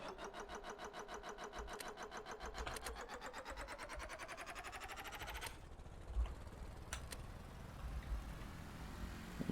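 An engine in the Stormworks video game runs with a rapid, even mechanical chatter that stops abruptly partway through, leaving a quieter hum with a few faint clicks and taps.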